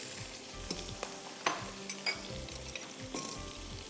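Cauliflower hits a hot frying pan and sizzles loudly and continuously, with repeated clinks and scrapes of a utensil against the pan as it is stirred.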